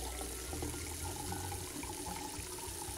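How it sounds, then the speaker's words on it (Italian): Water running from a tap in the video game Size Matters, a steady rushing flow with low gurgling that continues alone for the whole stretch. "Qua apro acqua."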